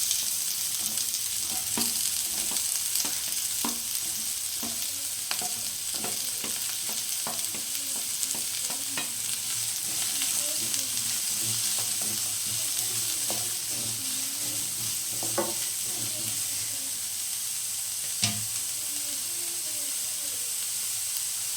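Onions fry in plenty of hot oil for a mushroom gravy, a steady sizzle and hiss with occasional spoon scrapes from stirring, close and continuous.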